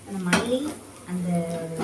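Spices such as ground coriander, pepper, cumin and dried chilli being sautéed and stirred in a pan, with spoon clinks and scraping against the metal in two short bursts over a low sizzle, a voice briefly in the background.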